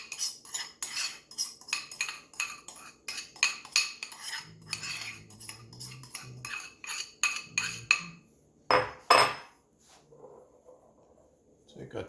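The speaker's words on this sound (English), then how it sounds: "Take our time and mix that gently." Warm sushi rice being gently mixed with a vinegar mixture, giving a series of soft, rhythmic scraping and clinking strokes of a utensil against the bowl, close and steady, with a brief louder knock near the end.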